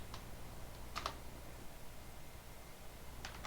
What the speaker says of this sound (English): you type in shut down into the command prompt